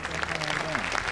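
Audience applause for Dee on a BIGO Live panel show, a dense, steady clatter of clapping lasting the whole brief moment, with a voice and faint tonal sound running underneath.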